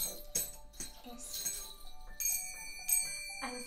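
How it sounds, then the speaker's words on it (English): Small metal finger cymbals struck several times in a children's music session, bright ringing dings that sustain and overlap, heard close alongside light voices and movement. "The finger cymbals. Do you want to give them another ding?"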